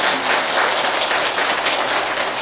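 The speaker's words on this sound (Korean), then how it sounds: "자기 자신에게 박수 한번 보내세요" Audience at a Buddhist Dharma healing service applauding themselves, a dense, loud, even wash of many hands clapping throughout with no talk.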